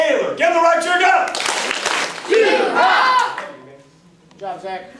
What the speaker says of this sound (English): Give him the right cheer, go!